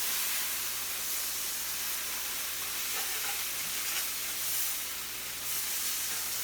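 Whole pile of kale sizzling steadily in a hot pan as it cooks down, a close, continuous frying hiss with faint stirring scrapes and no talking.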